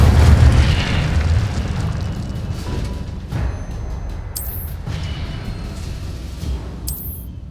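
Incendio fire spell cast in Hogwarts Legacy, a loud booming burst of flame that swells at the start and then rolls into a sustained crackling roar, with brief sharp magical whooshes flickering in later.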